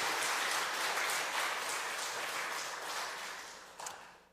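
A church congregation during a Sunday afternoon service breaks into applause, a thick, continuous wash of many hands clapping that gradually fades near the close.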